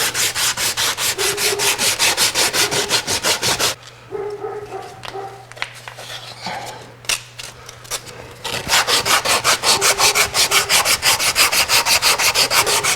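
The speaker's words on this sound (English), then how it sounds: "Rasp, and then files, and then coarse sandpaper and finer sandpaper." Wood on a twisted hollow form is worked by hand with rasps, files and sandpaper in fast, loud, rhythmic back-and-forth strokes. A quieter break in the middle brings a dog barking before the strokes resume.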